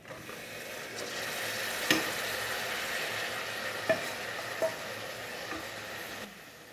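Steady frying sizzle of chopped tomatoes in hot oil, with a few sharp clinks of a utensil against the pan scattered throughout.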